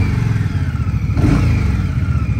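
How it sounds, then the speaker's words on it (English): A 2023 Indian Scout Rogue V-twin motorcycle with short GP exhaust idles with a lumpy, throbbing exhaust note, then revs up briefly before settling back, loud and close. "that's a pretty good exhaust note. Very V-twin sounding"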